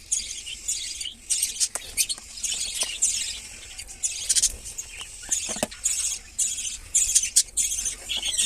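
Pet lovebird with splay legs giving short high chirps in irregular bursts close by, mixed with light scratching and tapping patter.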